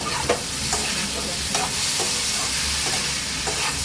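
Boiled papaya sautéed in a pan, with a steady sizzle and a spatula scraping and stirring at regular intervals, close and fairly loud, no talking.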